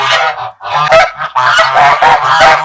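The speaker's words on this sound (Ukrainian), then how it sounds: "вони так гелготали голосно, що треба було їх випустити" Kholmogory geese honk loudly and repeatedly, several birds calling close by in overlapping, raucous bursts.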